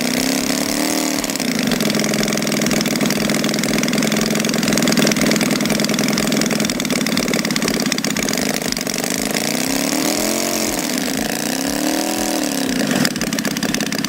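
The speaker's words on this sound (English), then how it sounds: "that lovely V-twin sound, Incredible that it's captured so well in a 2/5 scale model" A 2/5-scale model V-twin engine idles steadily with an uneven, loping potato-potato beat, briefly revving up and settling back down twice, loud and close with no voices.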